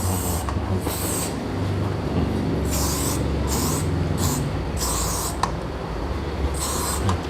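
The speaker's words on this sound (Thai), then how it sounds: "เดี๋ยวก็ผมจะฉีดสเปรย์ให้นะครับ" Hair spray hisses in repeated short bursts during a haircut, about ten quick sprays spaced unevenly over a steady background hum.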